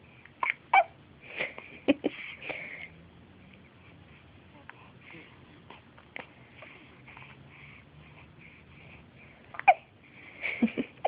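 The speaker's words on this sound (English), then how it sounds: "We have hiccups." A baby hiccuping: several small, squeaky hiccups spread unevenly across the stretch, with quiet gaps between them and a few soft vocal squeaks mixed in, close to the microphone.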